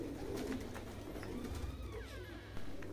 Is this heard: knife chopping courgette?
no